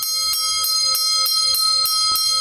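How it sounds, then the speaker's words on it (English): A bright, thin-toned Indian-made bell, thin-walled and straight cone-shaped, is struck repeatedly at a quick, even pace, each ring lingering with a shimmering, high metallic sustain. "Some sort of Indian-made bell, decorated with flowers. More of a straight cone-shaped bell."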